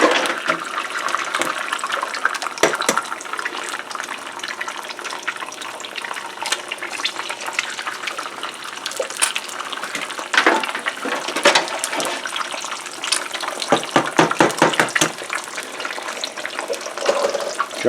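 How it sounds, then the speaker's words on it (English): Three eggs sizzle and spatter in leftover bacon and ham grease, a steady hissing fry with frequent sharp crackles and pops close up, with no voices. "We're going to throw 3 eggs in there."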